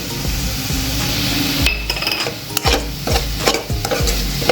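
Jaggery modak filling for wheat-flour modaks, flavoured with cardamom, is roasted and stirred in a pan, giving a steady loud sizzle with repeated scraping and clinking strokes of the spoon against the metal.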